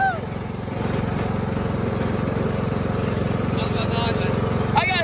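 Engine of a riding lawn mower running loud and close, a steady throbbing drone that rises as the throttle opens up, with brief voices at the start and end.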